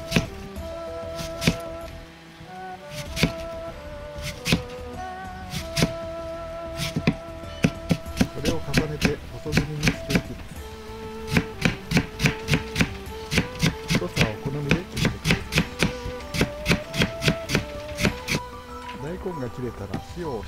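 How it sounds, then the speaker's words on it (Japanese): A knife slicing a peeled daikon radish thinly lengthwise on a cutting board, sparse taps at first and then a quick steady run of crisp close chops. "これを縦に薄切りにしていきます。"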